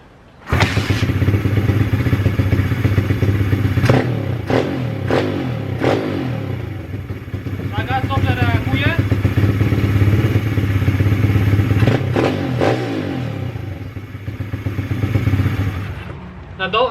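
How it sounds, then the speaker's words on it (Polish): A pit bike engine with modified ignition timing revs hard and close, holding a loud steady drone with several sharp throttle blips and rising, falling pitch sweeps; someone speaks briefly over it. "na gaz bardzo dobrze reaguje, jak na krótki roll gaz"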